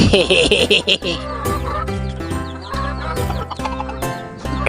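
Chickens clucking and squawking close by, with a busy mix of calls and some voices talking over the birds.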